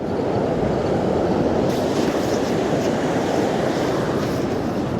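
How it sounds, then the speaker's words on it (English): Rough sea surf breaking on Cullen Beach on the Moray coast after a storm, a loud continuous roar and wash of waves, with wind buffeting the microphone. "it's a lot of wave action on it today"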